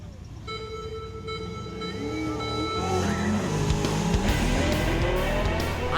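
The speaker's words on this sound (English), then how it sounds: "the car is skidding all over the place" A car skids across the surface with tires squealing in rising, sliding tones, heard over loud engine noise while a voice talks alongside.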